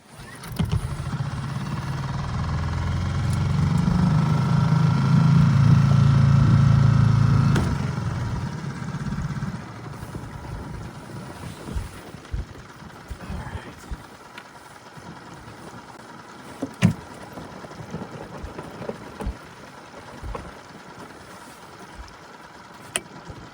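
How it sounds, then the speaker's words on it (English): A sailboat's motor drones low and steady at close range for about ten seconds, then drops away and leaves a quieter background with scattered knocks and small noises. "I suppose I should run the motor."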